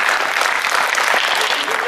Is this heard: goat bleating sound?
no